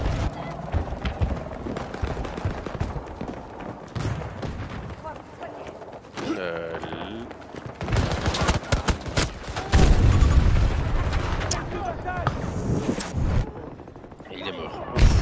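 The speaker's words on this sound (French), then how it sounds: "Grenade lancée." A grenade is thrown and explodes amid gunfire in the video game Battlefield 2042: dense, continuous bursts of rifle fire and booming blasts, loud and busy throughout, with a voice speaking over the battle.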